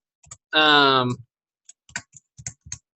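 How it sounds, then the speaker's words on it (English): Keystrokes on a computer keyboard come as a handful of sharp, close clicks in an uneven rhythm, spread out after a short burst of voice. "I could type my name in"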